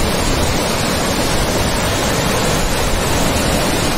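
A waterfall pours into the Kalpganga river beside the Kalpeshwar Mahadev temple, making a loud, steady, unbroken rushing roar with no voices.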